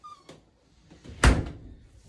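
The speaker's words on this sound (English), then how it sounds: "Do you want to close the door?" A door is pushed shut in a clinical assessment room, giving a single solid thud after a few faint knocks and rustles, with no talk.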